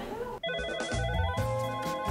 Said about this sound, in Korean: 오, 전화통에 불이 난다, 불이 나!